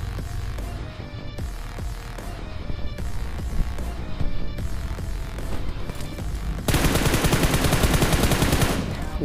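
Rapid bursts of automatic gunfire from a PUBG Mobile match, played with gyroscope controls against conqueror-ranked players, crackle over game sound and swell into a dense, loud volley near the end.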